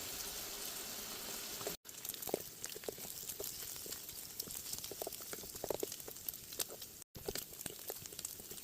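Bacon crisps in a pan, a steady, quiet crackle and sizzle of hot fat that runs unbroken with faint pops scattered through it.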